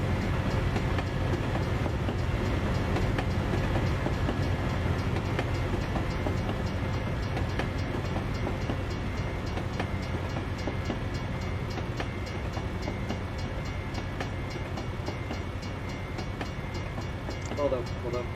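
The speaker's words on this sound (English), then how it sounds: "that train is loud" A loud train rumbles past close by for the whole stretch, a steady roar with rhythmic clacking wheels and faint voices underneath.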